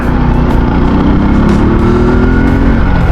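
Motorcycle engine running steadily on a ride home, loud and close, with a continuous revving drone and faint wind noise throughout, no talking.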